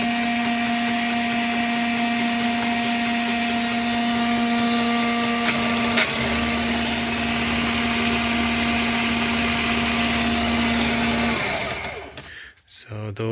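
A three-speed tool with a reducer runs steadily at its lowest speed, giving a loud continuous motor whine with a fixed hum. It holds evenly before shifting slightly near six seconds and stopping abruptly near the end.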